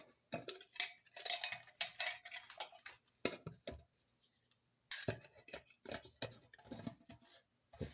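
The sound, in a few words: lid put tightly on a starter container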